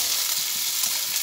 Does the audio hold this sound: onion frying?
yes